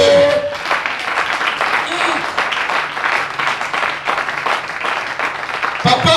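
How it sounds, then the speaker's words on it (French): A church congregation applauds and cheers for God during a Tuesday worship service, loud sustained clapping and crowd noise filling the room with voices rising through it. "Acclame pour notre Dieu"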